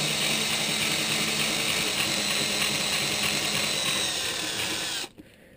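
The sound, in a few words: drilling plastic resin with a 1/4 inch drill bit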